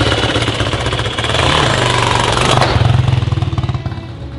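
A dirt bike engine is revved with the throttle, loud and close, rising from a throbbing idle into sharper rhythmic pulses as the revs climb, with no talk over it.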